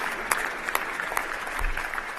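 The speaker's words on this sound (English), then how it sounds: "Let's applaud them" An audience at a talk on international religious freedom applauds in a brief, steady burst of clapping with a few sharper claps standing out, fairly close and without speech.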